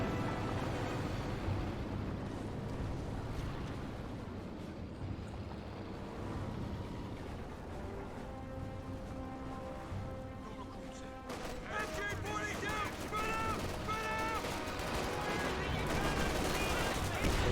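Pak 40 anti-tank gun shots and shell explosions in Company of Heroes 2 battle, a dense, continuous din of gunfire and blasts throughout, growing louder and busier toward the end, with game music and effects layered in.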